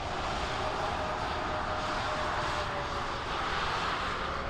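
A Ryanair airliner touching down in Microsoft Flight Simulator 2020 at Lisbon, a continuous broadband jet engine roar with a faint whining tone, steady and moderately loud throughout.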